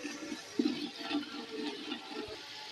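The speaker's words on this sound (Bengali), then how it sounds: "অল্প জল দেবো" Water poured from a cup into a pot of beef biryani masala being cooked at home, a soft, low splashing trickle lasting a couple of seconds, close and fairly quiet.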